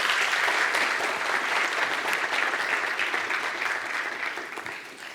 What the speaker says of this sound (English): Why don't you give a big applause for Mr. Summers?